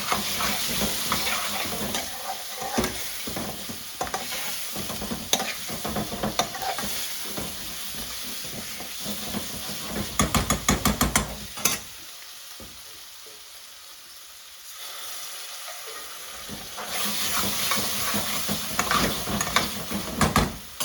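Pre-cooked lamb on the bone fries in a hot chilli masala, BIR-style, with loud, steady sizzling and frequent stirring scrapes throughout, a brief quieter lull midway before the frying noise swells again.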